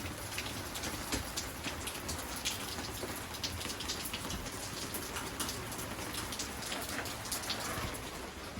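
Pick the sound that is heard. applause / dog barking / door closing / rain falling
rain falling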